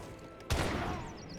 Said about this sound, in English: Good volley there.